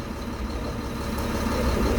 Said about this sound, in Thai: อันนี้เรามาอยู่กับเจ้ารถตักนะครับ รถตัก SDLG นะครับ